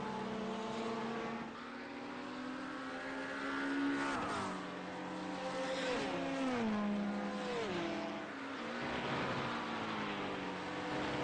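GT3 race cars at Watkins Glen, several engines roaring and shifting as they pass, pitch sweeping up and down with gear changes, fairly distant and continuous.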